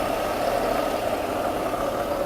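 A Mercedes W126 300SEL sits idling, its engine giving a smooth, steady mid-pitched drone with a faint underlying vibration, even and uninterrupted for the whole stretch.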